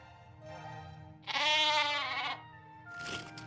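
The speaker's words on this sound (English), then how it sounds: "This is Fridolin, my rabbit sheep" A rabbit sheep from the video game The Book of Unwritten Tales 2 gives one loud, wavering bleat close by, with a fainter bleat-like call just before and after.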